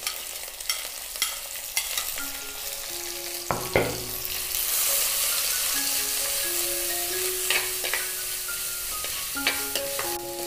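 Sliced onions and chopped green chilies hiss and crackle in hot oil in an outdoor village kitchen, with a spoon scraping and stirring the pan over a steady close-up sizzle and no speech.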